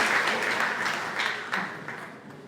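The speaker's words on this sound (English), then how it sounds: "So a round of applause to Madang Lodge Hotel." Applause from an audience at a pageant introduction night, a crowd clapping steadily that gradually thins and fades over a couple of seconds.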